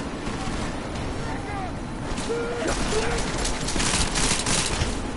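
Gunfire from the Deus Ex video game as a continuous wash of shots and bursts under a steady roar, growing slightly louder toward the end, with a voice faintly present in the mix.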